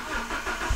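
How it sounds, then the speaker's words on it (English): A cold car engine, diesel or petrol, turns over and starts, giving a steady loud churning mechanical hum for under a second, with no talking. "I'm gonna start the car up."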